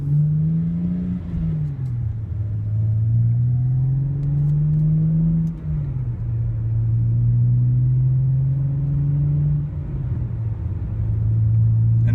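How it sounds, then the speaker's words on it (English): A BMW E90 with a manual gearbox revs up through its gears, the engine note climbing smoothly then dropping at each shift in a repeating rise-and-fall pattern, loud and close from inside the car. "if you notice, the RPMs are dropping exactly where the next gear's at. It's perfectly smooth."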